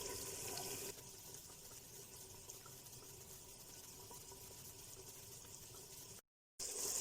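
Water poured from a glass into a cooking pot of peas for matar pulao, a steady close pouring wash that runs continuously, briefly cutting out near the end before resuming.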